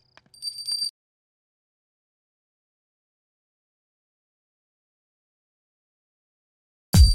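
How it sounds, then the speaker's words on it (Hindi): A prayer bell rings during puja, a single bright metallic ring that fades quickly, followed by long silence and then a brief low thump at the end. "फिर घंटी की आवाज क्यों नहीं आ रही?"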